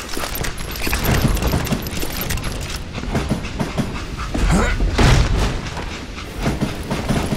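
A train in Call of Juarez, with its express car being detached, rumbles continuously with clattering and booming low-end noise and no voices.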